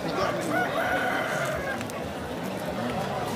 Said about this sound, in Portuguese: Olha os galos aqui.